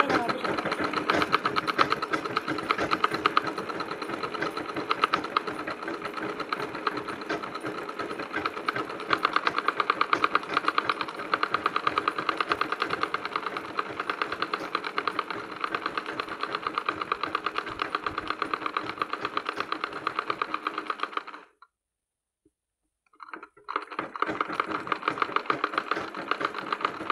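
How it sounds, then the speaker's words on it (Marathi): A sewing machine stitches a cloth napkin with black thread, running in a fast, steady mechanical chatter for about twenty seconds, pausing briefly, then starting again, close up with no talk over it. "तर अर्धा इंच मार्जिन सोडून मी शिलाई मारायला घेते."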